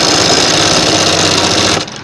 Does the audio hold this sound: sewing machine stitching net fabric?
yes